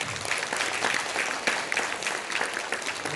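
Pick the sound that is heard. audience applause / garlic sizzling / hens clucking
audience applause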